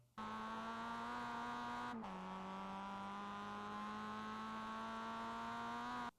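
A Mazda MX-5 in the racing game iRacing, lapping Oran Park, drones steadily at high revs, with a brief dip in pitch around two seconds in as it shifts down into first gear, then holds a loud, even engine note.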